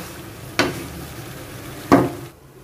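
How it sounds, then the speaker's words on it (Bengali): Vegetables are added to fish frying in a pan, giving two sharp bursts of sizzle and scraping a second or so apart over a low, steady background hiss. "তারপরে সবজিটা দিব এখানে।"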